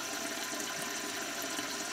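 A lowboy toilet's tank and bowl refill with water, a steady broad hissing rush that continues evenly throughout at close range, with no talking.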